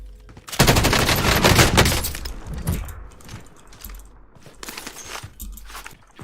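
Heavy burst of rifle fire in Call of Duty Warzone, a loud fusillade of rapid shots opening the stretch, then scattered lighter shots and mechanical clinks trailing off, with no talking.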